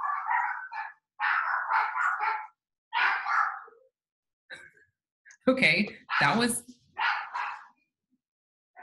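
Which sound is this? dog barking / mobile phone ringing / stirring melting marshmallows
dog barking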